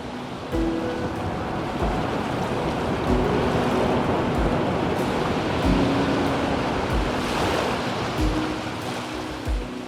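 Ocean waves wash steadily against rocks on the East Sea coast, a continuous loud surging roar with repeated swells and crashes breaking through the wash.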